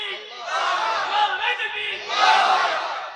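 A crowd at a Bangla religious sermon gathering roars the takbir chant in unison, a loud sustained mass of voices that swells twice in quick succession.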